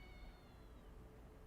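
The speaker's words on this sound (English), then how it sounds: "Okay, well clearly it's a cat." A faint, brief meow-like cry in a video game, thin and high, sitting over a low steady background rumble.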